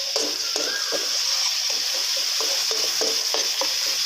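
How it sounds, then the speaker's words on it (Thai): Sauces stir-fried in a hot pan for Thai chili-topped fried sea bass: steady loud sizzle with repeated scraping stirs at a regular rhythm, no talking. "ผัดคลุกเคล้าให้หอมนะครับ"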